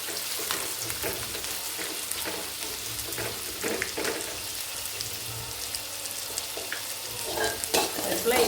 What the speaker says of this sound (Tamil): இதை வதக்கி விட்டுக்குவோம்.